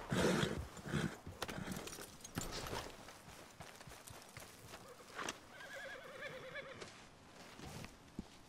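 A horse in Red Dead Redemption 2 neighs and whinnies loudly, with clip-clop hooves and other game sounds around it and no talking.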